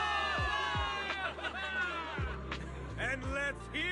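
A crowd of soldiers cheers for victory in the video game Zenless Zone Zero, with overlapping whoops and shouts that swell and fall close by, mixed with sweeping thumps.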